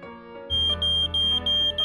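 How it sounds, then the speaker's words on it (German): A smoke alarm beeps in short, high, repeated chirps at a steady pace over a sustained electronic tone. "Ist das dein Rauchmelder, der da piept?"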